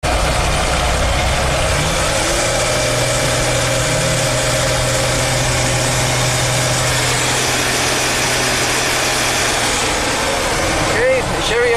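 Chevy Astro van engine idling steadily after a crank no-start repair, a constant low drone filling the whole stretch, close and loud, with faint voices in the background.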